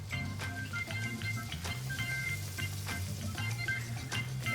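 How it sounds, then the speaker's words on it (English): Garlic fries in oil in a hot pan, giving a steady close crackling sizzle with scattered pops and spatters throughout, with no voices. "We're gonna fry off the garlic."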